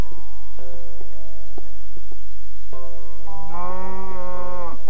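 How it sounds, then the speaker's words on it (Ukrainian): A Minecraft cow's low, drawn-out harmonic moo sounds twice, the second call longer and louder, over a steady electronic hum. "Для чого ти мукаєш?"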